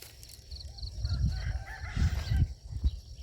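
Chickens cluck and murmur nearby in short bursts, with a few clearer calls standing out over a low background rumble.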